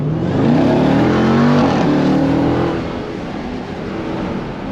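Supercharged 2018 Jeep Grand Cherokee Trackhawk accelerating hard from a green light, a loud, steady roaring engine note climbing in pitch, then easing into a lower drone, heard from inside the cabin.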